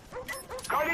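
Attack dogs in the Call of Duty Black Ops video game bark in a few quick yips and bow-wows, close and moderately loud, mixed with light mechanical game clatter.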